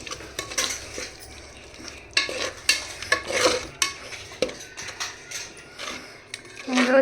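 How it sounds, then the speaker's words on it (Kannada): A spoon or ladle stirs a thick masala mixture in a metal pot for egg biryani. The scraping and clinking strokes come in a loose, repeated rhythm, close and fairly loud, with no talking. "ಮಸಾಲ ಹಾಕಿದ್ದೀವಿ, ಚೆನ್ನಾಗಿ ಮಿಕ್ಸ್ ಮಾಡಿ."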